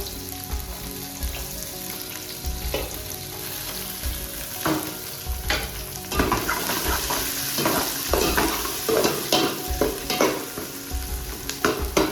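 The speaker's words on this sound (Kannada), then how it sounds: "ಈರುಳ್ಳಿ ಹಾಕ್ತಾ ಇದ್ದೇನೆ. ಗರಂ ಮಸಾಲೆ ಎಲ್ಲ ಫ್ರೈ ಆಯಿತು." Onions frying with garam masala in a pan for vegetable pulao crackle with a steady sizzle, broken by close scraping and clacking stirs, with no talk.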